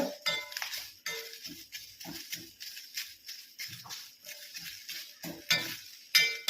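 Curry leaves roast in a pan while a metal spoon stirs them, making repeated scraping and clinking strokes in an uneven rhythm, close and fairly quiet.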